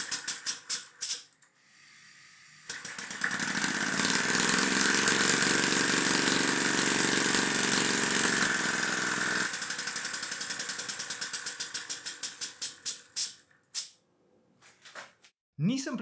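A homemade compressed-air engine on its first test run gives a few quick puffs, then a loud steady hissing rattle for several seconds that breaks into rapid chuffing pulses as it slows and stops.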